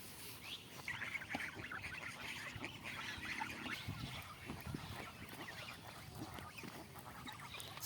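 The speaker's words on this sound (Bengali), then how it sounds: "ওই ওখানে আরও কিছু হাঁস আছে।" Ducks and geese on a rural Bangladeshi homestead call in a steady, overlapping chorus of honks and quacks, mid-distance and continuous throughout.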